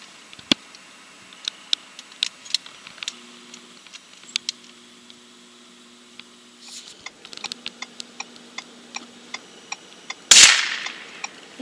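A single loud gunshot cracks out near the end while hunting ptarmigan in the snowy James Bay bush, standing clearly above a quiet background of faint ticks and clicks.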